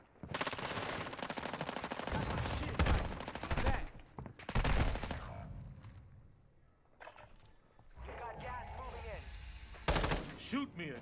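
Video game gunfire crackles in long automatic bursts, loud and close, with brief pauses between volleys and some scattered shots. A voice speaks over parts of it.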